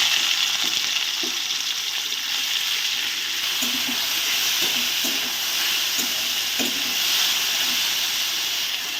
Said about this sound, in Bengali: এবার এই তেলের মধ্যে আমি কেটে রাখা আলু আর উচ্ছেগুলো দিয়ে দেবো ভেজে রাখার জন্য।